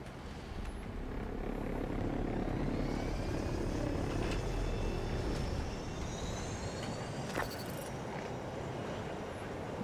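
An airplane flies in Battlefield 2042 with a loud, steady engine drone that holds close and constant throughout, swelling slightly in the middle before easing back.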